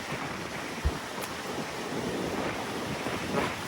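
Waves of the Arabian Sea rolling against Vijaydurg fort make a constant roaring wash, with gusts of wind rumbling across the microphone and a brief thump near the start; no one speaks.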